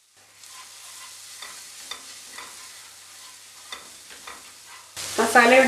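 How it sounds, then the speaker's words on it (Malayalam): Masala with green chillies frying in oil for a Kerala-style sardine curry: a soft, continuous sizzle with occasional stirring scrapes, close by, ending in a louder burst of clatter. "നമ്മൾ ആ ഒഴിച്ച എണ്ണയൊക്കെ തെളിഞ്ഞ് വരുന്നൊരു പരുവം വരും അതുവരെ ഒന്ന് മൂപ്പിച്ച് കൊടുക്കാം"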